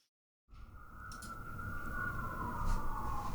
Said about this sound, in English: Yes, I have sirens coming by outside.